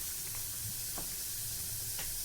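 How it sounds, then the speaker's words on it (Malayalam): Jackfruit seed curry bubbles in a pan, a steady close hiss and sizzle with soft pops and an occasional faint scrape, continuous and without speech. "ഇനി നന്നായിട്ട് തിളക്കുക."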